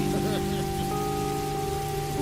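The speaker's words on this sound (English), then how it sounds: "And the rain kept coming." Heavy rain pours down in a steady, unbroken hiss of drops hitting surfaces, dense and even throughout with no voices.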